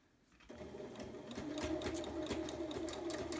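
A sewing machine runs a zigzag stitch to attach elastic into swimwear fabric, starting up after a short quiet moment and then whirring steadily and close with a rapid mechanical rhythm.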